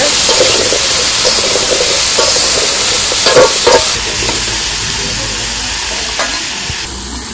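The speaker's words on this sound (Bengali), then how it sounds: "হলুদ, শুকনো মরিচ, কাঁচা মরিচ, সবজিগুলা কষে নিই ভালো করে।" Vegetables with salt, turmeric, dried and green chillies being stir-fried in a village kitchen, loud close sizzling with repeated scraping stirs and clatter, easing slightly toward the end, no talk.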